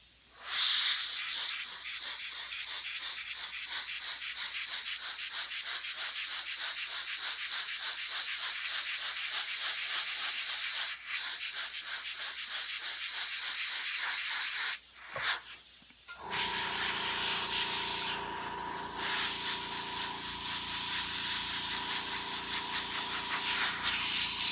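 An airbrush spraying paint onto model horse hooves gives a close, steady airy hiss in rapid pulsing bursts, then a brief pause and a smoother, continuous spray with a faint mechanical hum, with no talking.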